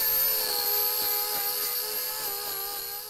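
A 4.5-inch angle grinder fitted with a hoof shaving disc trims a dairy cow's hoof, giving a steady high-pitched whine with faint pulses as the disc bites, loud and close with no talking.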